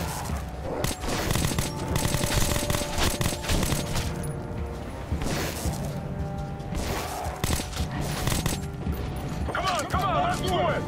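Sustained gunfire in the video game Metro 2033 Redux, dense rapid machine-gun bursts and single shots running almost continuously at close range, with a few brief gaps and a voice talking over parts of it.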